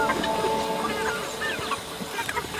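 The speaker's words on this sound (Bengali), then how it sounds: "এই যে এগুলো হচ্ছে টাইগার মুরগির বাচ্চা একটা মোরগ একটা মুরগি" Tiger-breed chicks, a rooster and a hen kept on a rooftop make scattered, fairly faint squawks and chirps over low background hum, with no speech.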